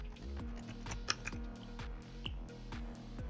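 Quick, light keystrokes clatter on a computer keyboard close to the microphone, a rapid irregular run of clicks with a couple of sharper taps, quiet and alone.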